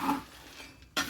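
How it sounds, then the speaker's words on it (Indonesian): Coffee beans roast in a pan over a fire in a village kitchen and are stirred by hand, giving a short burst of dry scraping and rattling with a louder scrape at the end. "Ngono ceritane iki proses goreng kopi sampai mateng gitu guys."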